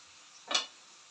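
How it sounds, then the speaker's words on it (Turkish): Eggplant and peppers frying in a pan are given a single quick stir, one short scraping sizzle standing out over a faint low background hiss. "Biberle patlıcanı karıştırıyorum."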